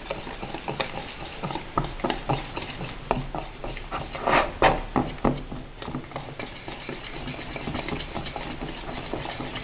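Homemade play dough ingredients being stirred together in a bowl make a series of close, uneven scraping and tapping knocks, swelling briefly louder midway and then settling into softer irregular clicks.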